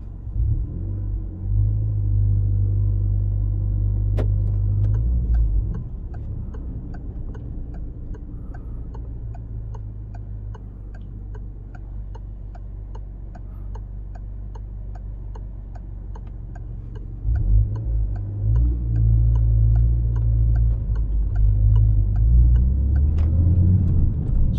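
A Peugeot 208 GTI with a 1.6 litre turbo engine rumbles low and steady from inside the cabin, swelling louder as it accelerates near the start and end, while an indicator ticks steadily in the middle stretch.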